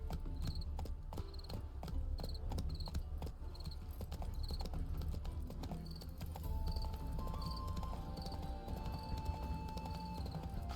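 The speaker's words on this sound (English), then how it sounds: "Spooking my horse." The hooves of Roach, a horse in The Witcher 3 video game, clip-clop in a steady rhythmic walk over a dense ambient background with a faint insect-like chirping.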